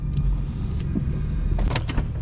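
A 500 hp BMW M4 with a titanium catback exhaust drives at night, its engine a steady, close, low droning rumble with no talk.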